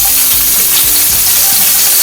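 Two tablespoons of sesame oil heat in a pan while ingredients fry, giving a loud, dense, close sizzling hiss that runs continuously without pause.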